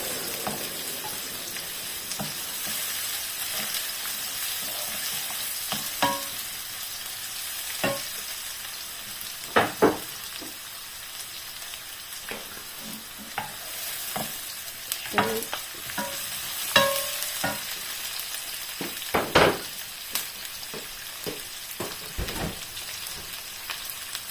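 Chorizo, garlic and onion sizzle in a pan, a steady soft frying hiss with occasional clicks and scrapes of a utensil stirring, close and without talk.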